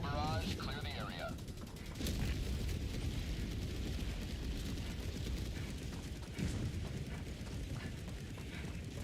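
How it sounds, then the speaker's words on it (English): Orbital barrage strikes in Helldivers 2 pound down as a dense, continuous roar of explosions and heavy blasts, loud and sustained, with rumbling impacts layered over one another and a brief electronic tone at the start. "Firing orbital barrage, clear the area."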